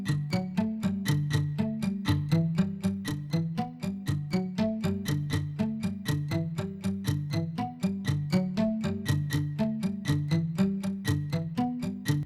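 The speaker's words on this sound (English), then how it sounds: "the next set of acoustics is called the acoustic guitar picked" A picked acoustic guitar plays a steady, repeating pattern of plucked notes at moderate volume, rhythmic and even throughout.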